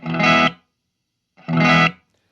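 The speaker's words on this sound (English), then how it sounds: "Let's go ahead and plug in the Ibanez and hear what the humbucker sound with this amp" Ibanez electric guitar on its humbucker pickup through a Vox AC10C1 amp, two loud distorted strummed chords, each ringing about half a second and cut off sharply, with silence between.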